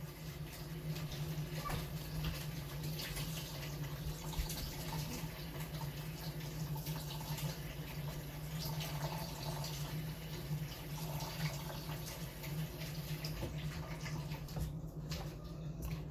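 A steady stream of hot water runs from a tap for a long stretch, a continuous rushing hiss at even loudness with no talking.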